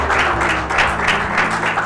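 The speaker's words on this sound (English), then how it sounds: "Another round of applause for today" A loud, close round of applause from an event crowd, with dense clapping swelling in regular pulses over a low hum.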